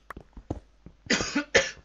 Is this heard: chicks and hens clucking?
no